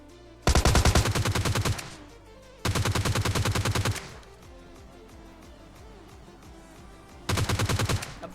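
Automatic gunfire in PUBG Lite comes in three loud, rapid bursts: two back to back, a pause, then a final burst, with no talk over them.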